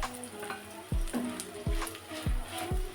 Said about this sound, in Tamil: அதையும் நல்லா இந்த எண்ணெயோடய நல்லா வதக்கிடலாம்.